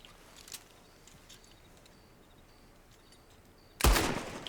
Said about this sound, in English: Shoot the chains off, please.